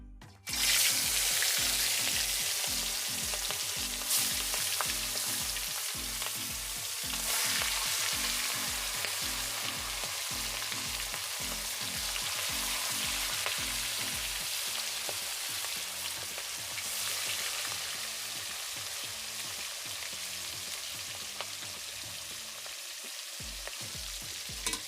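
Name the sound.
silver carp fish pieces frying in hot oil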